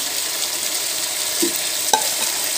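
Chicken kosha with fried potatoes stirred in a pan, a steady close sizzle and frying hiss with a couple of brief scraping knocks from the spatula near the end.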